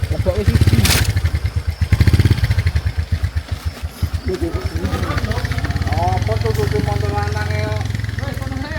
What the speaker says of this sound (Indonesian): Kita lihat nih perjuangan kita nurunin motor.